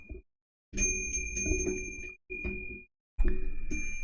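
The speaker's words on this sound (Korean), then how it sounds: "제가 다시 한번 풍경 소리를 내볼게요." A bright metal wind chime bell rings three times, each strike sustaining a clear, shimmering tone before fading, close and fairly loud with short pauses between.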